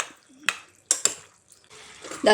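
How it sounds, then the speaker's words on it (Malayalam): Cooked jackfruit seeds are mashed and mixed in a pan, with a few sharp utensil scrapes and clinks against the metal separated by quiet gaps. "ഈ ചക്കക്കുരു നല്ലതായിട്ട് ഉടച്ച് അതിലോട്ട് യോജിപ്പിക്കുക"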